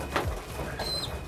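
Racing pigeons in a loft give a soft, low cooing call near the start, followed by a brief higher chirp, against a steady background hum.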